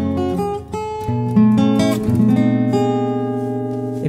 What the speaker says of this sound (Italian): questo si chiama Si tredicesima nona bemolle, e fa così